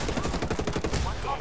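Rapid automatic gunfire and scattered shots in the tactical shooter Ghost Recon Wildlands, a dense, loud burst of repeated rounds lasting about a second and a half.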